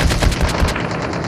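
Automatic weapon fire in the mobile battle royale shooter Call of Duty Mobile, a loud, rapid burst of closely spaced shots lasting about a second before tapering off.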